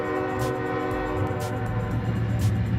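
A train rolling past, its horn sounding steadily in a sustained tone over the low rumble of the cars, heard fairly close with no voices.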